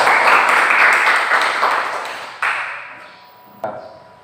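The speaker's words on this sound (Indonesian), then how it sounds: "Beri tepuk tangan untuk Rahel." Classmates clap in a classroom during a group lesson, a brief burst of applause that quickly tapers off, followed by a couple of sharp isolated taps or clacks.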